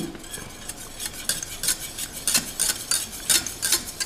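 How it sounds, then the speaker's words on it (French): A utensil repeatedly stirs flour into melted butter in a pan for béchamel, producing rhythmic scraping and clinking strokes about twice a second over a faint background, close and without speech. "notre beurre a bien fondu. Là, on va y rajouter nos 50 g de farine. On va mélanger le tout."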